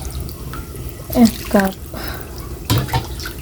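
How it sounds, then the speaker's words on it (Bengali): Water is poured into a pot for pulao rice, making short splashing gurgles in uneven bursts, close and moderately loud. "পানিটা দিয়ে দিচ্ছি"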